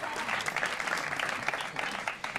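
A studio audience on a spelling game show claps for a contestant, a moderately loud, continuous patter of hands throughout.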